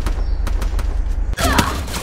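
In a video game, a rapid volley of gunshots strikes riders on a motorbike, with sharp evenly spaced cracks over a loud engine drone and a denser flurry of hits near the end.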